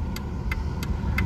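Ford Taurus engine idling with fluctuating RPM, a low rumbling hum with four evenly spaced ticking clicks, heard close and steady with no voices.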